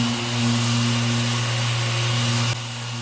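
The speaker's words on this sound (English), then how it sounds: "So we sanded this down and we've sanded out the hard edge." A power sander with 80 grit paper works over the painted steel of a car fender, giving a continuous close, loud whirring grind with a steady motor hum that dips slightly in level near the end.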